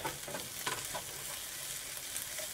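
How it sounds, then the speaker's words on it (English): Chilies fry in hot oil in a steady, close sizzle, with crackling bursts and stirring scrapes throughout and no talking. "Now I'm gonna add my chilies into the oil"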